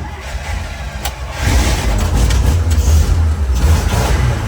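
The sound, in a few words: 1942 Dodge truck engine starting after carburetor fix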